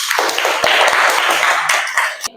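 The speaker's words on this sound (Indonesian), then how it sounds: "Tepuk tangan untuk kita semua." A class of students claps together in a school physical-education lesson, a dense burst of loud hand claps from a nearby group that runs steadily for a couple of seconds before stopping abruptly.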